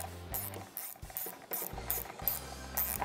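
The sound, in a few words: removing screws from fuel injection control module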